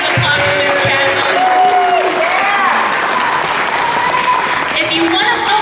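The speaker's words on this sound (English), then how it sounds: "Can we get a round of applause for Miss Chatham?" Applause from an audience at an Indiana Congressional District 9 healthcare debate, a steady dense wash of clapping with some cheering that fills the whole stretch, while a voice speaks over it.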